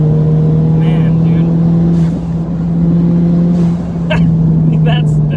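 A big-turbo Ford Fiesta ST pulls hard along a winding road, its engine droning loudly and steadily from inside the cabin, dipping briefly between gears, while occupants talk over it.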